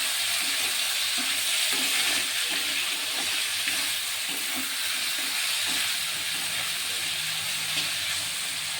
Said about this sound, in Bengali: রসুনটা ভাজা ভাজা করে নিয়েছি, এবার পেঁয়াজটা দিয়ে দিচ্ছি।